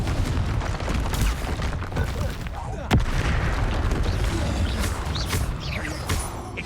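Fiery spell blasts and booming impacts from Hogwarts Legacy, a loud dense clatter of explosions with one sharp crack partway through, continuous combat noise throughout.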